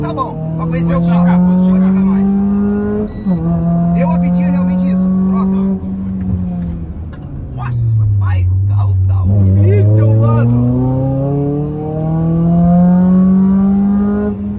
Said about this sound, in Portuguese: acelerando o Sandeirinho